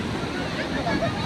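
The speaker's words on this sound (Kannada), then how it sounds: "ನೋಡಿ ಬಂತು ಅಲೆ ಬಂತು" Strong evening surf at Mahabalipuram beach roars in a dense, continuous wash as a big wave rushes up onto the shore close by.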